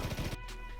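Several quick gunshots from the browser shooter Krunker.io, a rapid burst of sharp low-heavy cracks in the first third of a second, then a fading quieter tail, with no talking.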